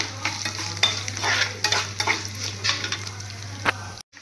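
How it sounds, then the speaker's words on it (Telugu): Curry leaves hitting hot oil in a pan while cooking a chutney tempering, a loud crackling sizzle with stirring scrapes close by, steady for about four seconds over a faint low hum, then cutting off. "తర్వాత కరివేపాకు కూడా వేసుకుంటే స్మెల్ భలే బాగుంటుంది అన్నమాట"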